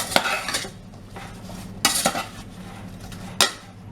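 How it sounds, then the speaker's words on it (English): A spoon stirs fruit and sugar in a pot for a fruit crumble, making a few clattering scrapes against the metal in short bursts with quieter pauses between. "Give that a little stir."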